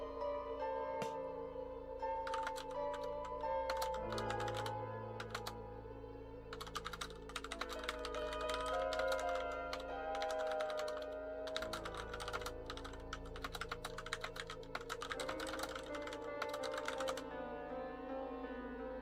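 Rapid, excited typing on a computer keyboard clatters in dense bursts with brief pauses, close and clear, while music plays underneath.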